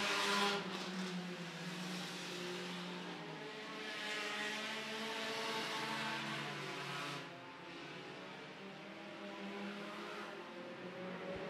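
Sport compact race cars in a main event at El Paso County Raceway roar past continuously, engines droning and shifting pitch as they race by at moderate distance, with a brief dip in loudness partway through and no talking.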